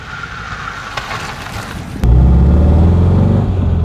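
A 1963 Porsche 356 C Cabriolet on the road, a muffled interior rumble that abruptly becomes a loud, deep engine drone about halfway through and holds steady.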